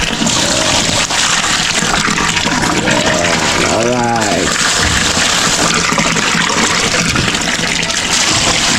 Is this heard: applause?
no